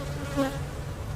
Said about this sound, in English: that's a nice looking colony of bees